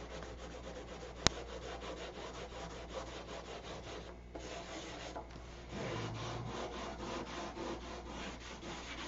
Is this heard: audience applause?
no